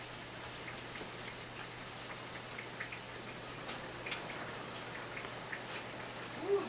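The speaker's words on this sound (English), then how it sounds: "raining hard out here." Steady rain hisses down outdoors, a dense continuous wash of drops with occasional louder taps, fairly quiet and without speech.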